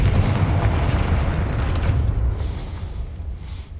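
A fiery Confringo spell explosion in the Hogwarts Legacy video game, one deep rumbling boom that fades gradually over several seconds.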